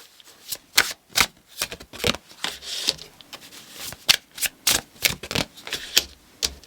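Tarot cards being shuffled by hand produce quick, crisp riffling bursts, close and clear, repeating in an uneven rhythm.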